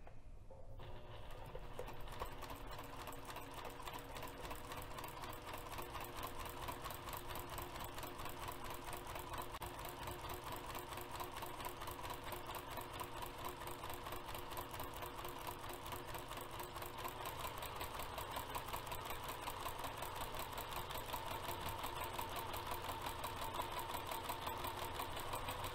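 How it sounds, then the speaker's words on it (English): A sewing machine with a walking foot runs steadily, quilting fabric for a bag, its rapid rhythmic stitching clatter continuing close by for the whole stretch without pause. "I'm going to take this back over to the sewing machine, leave the walking foot on"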